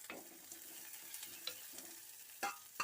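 Green chillies and garlic are stirred in a pan of hot oil, a quiet steady sizzle broken by several short spatula scrapes and taps against the pan.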